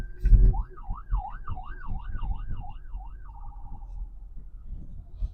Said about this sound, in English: where is this ambulance? Like, is it behind me?